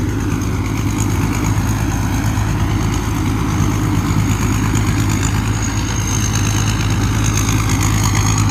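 A combine harvester engine idles during a barley harvest, a steady, loud, low mechanical drone that holds constant throughout with no voices over it.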